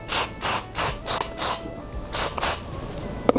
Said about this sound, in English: I'm going to go in with my Kiss Quick Cover Root Touch-Up Spray.